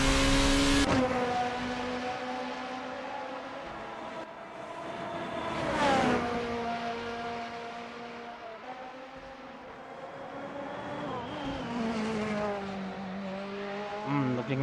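A race car in the Formula Hololive racing video game at Suzuka, its engine whining loud and close with rising and falling pitch through gear changes and revs, heard alone.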